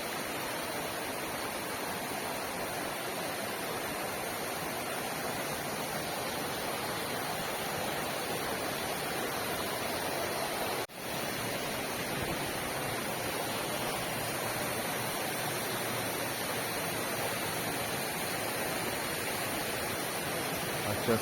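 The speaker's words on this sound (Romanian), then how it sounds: "Voi încerca să mă apropii puțin de cascadă." A waterfall carrying muddy water after rain in Buzău County, Romania, a steady, loud, unbroken roar of rushing water throughout, with no talking.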